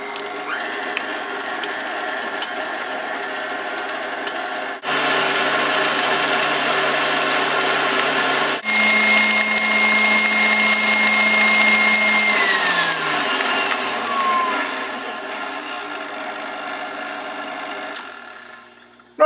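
Electric mixer beating peanut butter and butter together, a loud steady motor whine that starts low, steps up to higher speeds in distinct jumps, then winds down near the end.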